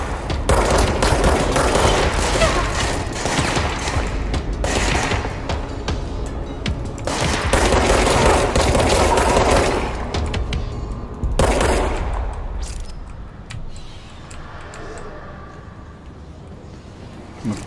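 Gunfire from a weapon in the video game Control comes in loud, dense bursts of rapid shots across most of the stretch, then tapers into quieter, sparser rumbling toward the end.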